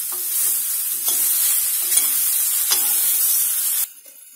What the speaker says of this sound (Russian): Самое главное здесь получается обжарить колбасу двух сторон